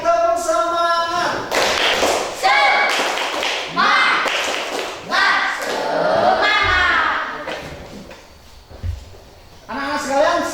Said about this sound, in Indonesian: Ulang lagi, tepuk semangat.